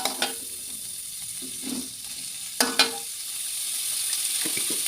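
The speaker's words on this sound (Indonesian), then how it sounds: "Aku langsung masukin ini buncis sama tahunya, terus dioseng-oseng ya." Green beans and tofu stir-fried in a pan, with a steady close sizzle broken by a few sharp scrapes and clatters of the spatula.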